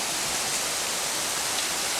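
Waterfall at Kampung Alumu, Sawang, North Aceh: a steady, dense broadband rush of falling water, constant and fairly loud with no talking.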